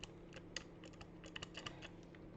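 Fingers tap rapidly on a full-size computer keyboard, a quiet, close run of irregular key clicks with a soft steady hum beneath.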